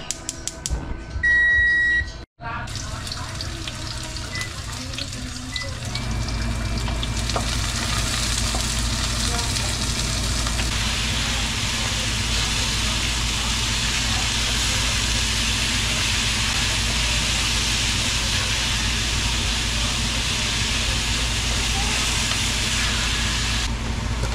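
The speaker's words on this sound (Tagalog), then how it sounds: "Mayroong canola oil, mayroon akong olive. I-on ko na, igigisa ko na." Canola and olive oil sizzle loudly in a pan during a sauté, starting with a few kitchen clatters and then settling into a dense, steady hiss of frying that holds for about twenty seconds.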